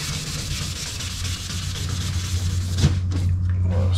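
Car paint is wet-sanded with 1500 grit sandpaper in a steady, close, raspy rubbing over a low hum, with a small knock near the end.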